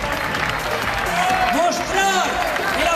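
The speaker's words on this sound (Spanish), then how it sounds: "Ese fuerte aplauso para todos ellos, ese fuerte aplauso para todos estos atletas aquí hoy corriendo en Siete Aguas." Crowd applause for runners at the Siete Aguas Gran Fondo foot race in 2012, a continuous broadband wash of clapping throughout, with a loud announcer's voice speaking over it.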